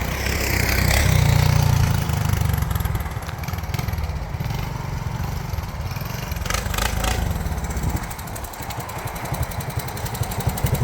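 A 1982 Honda ATC 185s three-wheeled trike runs on a test drive, its small engine putting out a loud, steady low drone that eases off slightly as it moves, continuous throughout.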